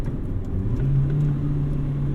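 A 2000 Honda Civic Si with its B-series VTEC engine revs hard inside the car, a steady close engine roar with a rising tone as the VTEC kicks over.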